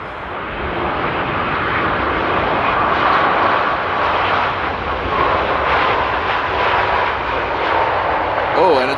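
Airplane arriving at Amsterdam Airport in windy weather, a broad continuous engine roar with heavy wind rushing, loud and steady throughout.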